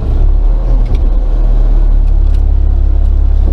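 A truck with a Yuchai diesel engine rumbles steadily up close as it turns around on a road, heard from inside the cab with no talking.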